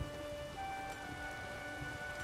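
Steady rain pattering on a surface in the video game The Witcher 3, soft and constant, with faint tonal hums in the background and no voices.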